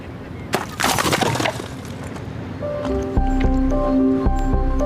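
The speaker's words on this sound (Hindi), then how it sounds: "जब मैंने उस पर ऊपर से वार किया वर्टिकली, तो वही बर्फ आसानी से टूट गई।" Ice broken by a vertical strike from above, with a sharp cracking burst early on, followed by lower rumbling and tonal droning sounds that continue steadily to the end.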